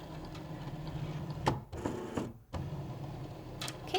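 A Cricut Explore 3 cutting machine powers on with soft mechanical whirring and clicking over a steady hum, including a couple of brief sharp transients, all at close range with no voices.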